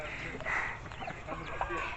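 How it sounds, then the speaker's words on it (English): Chicken clucking softly among turkey poults, a few short, faint clucks with ambient background noise. "And one is a chicken."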